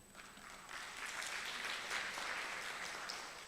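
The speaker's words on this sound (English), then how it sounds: "Let us give our heartiest congratulations to all award recipients with a big applause" Audience applause for award recipients at an annual academic congress, a soft, distant wash of clapping that swells slightly and holds steady through the few seconds.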